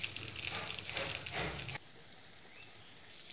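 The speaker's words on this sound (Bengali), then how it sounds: "বেগুনটা আগে ভাজবো।" Salted, turmeric-coated eggplant slices fry in hot oil in a pan, a bright crackling sizzle for under two seconds before it drops to a faint hiss.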